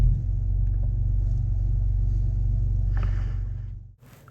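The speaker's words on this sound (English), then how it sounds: "Alright, guys, let's start the car." Engine of a 2015 Chrysler 300S V6 on ramps after an oil change, running with a steady low rumble that fades near the end before a brief clatter.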